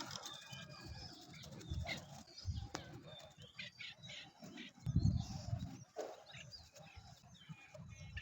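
Many small birds released into the open sky, with bursts of wing flapping and fluttering at close range, strongest around the middle of the clip, over faint background chirps and rustle.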